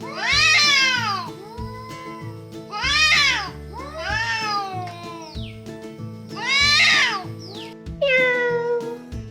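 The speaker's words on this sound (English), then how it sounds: "Oh, it's the cat." A cat meows repeatedly, clear and close, in a series of rising-and-falling calls over a steady, simple children's music backing.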